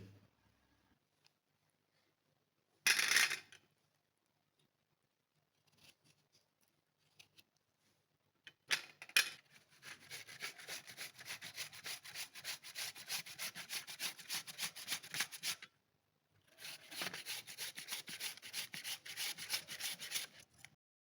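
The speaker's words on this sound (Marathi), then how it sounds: "डांगराचे छोटे छोटे तुकडे करायचे आणि मग त्याला किसून घ्यायचे" Small pieces of red pumpkin are rubbed against a kitchen grater in bursts of quick, rhythmic scraping strokes, close and fairly quiet, separated by short pauses.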